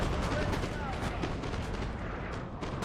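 Artillery firing canister shot in a Napoleonic battle in Napoleon: Total War, with dense, continuous rumbling booms and crackling gunfire throughout, loud and close.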